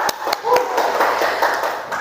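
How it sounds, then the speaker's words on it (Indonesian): A short burst of clapping from a small group in a classroom, uneven hand claps over a low murmur of room noise. "Terima kasih Panji, boleh tepuk tangan lagi untuk Panji."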